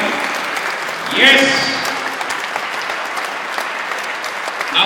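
Church congregation in a Philippine Methodist cathedral clapping steadily throughout, a dense wash of hands with one voice shouting briefly over it near the start.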